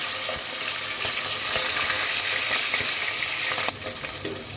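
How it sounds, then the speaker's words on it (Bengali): Steady loud sizzling and crackling of a hilsa fish head frying in hot oil, close up, with a few faint clinks and no voices. "মাথাটাকে ভেজে নিতে হবে প্রপারলি।"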